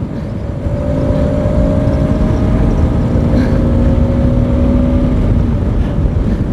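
A motorcycle engine racing at speed, a steady loud drone with a sustained tonal whine that holds for the whole stretch, blended with rushing wind and no talking.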